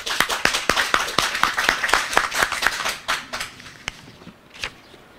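An audience claps in a ceremonial hall, a steady burst of many hands that thins into scattered claps and fades out near the end.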